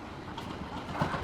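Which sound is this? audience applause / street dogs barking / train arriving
train arriving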